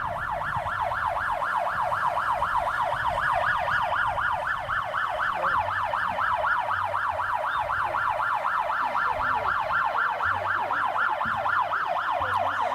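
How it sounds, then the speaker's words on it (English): A Nyala armoured vehicle's siren wails loudly and steadily in a rapid, repeating rise-and-fall warble for the whole stretch, with low crowd and engine rumble underneath. "the howling of the Nyala siren"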